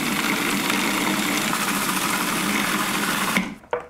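A food processor whirs steadily as dipping sauce for king crab legs blends and olive oil streams in, then the motor cuts off abruptly near the end, leaving a brief clatter.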